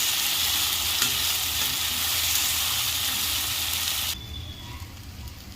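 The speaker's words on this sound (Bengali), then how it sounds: "যে সিমের পেস্টটা করে রেখেছিলাম সেটা আমি কড়াতে দিয়ে দিয়েছি। দিয়ে এবার এটাকে মিডিয়াম ফ্লেমে রেখে হালকা হালকা করে নাড়তে থাকবে" Bean paste made from flat beans frying in a wok over a medium flame, stirred gently. A dense, steady sizzle and scraping hiss runs for about four seconds, then drops away sharply to a faint simmer.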